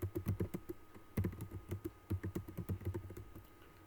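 Typing on a computer keyboard while editing text in Emacs, a close, rapid run of clicking keystrokes in quick bursts with brief pauses, no voices.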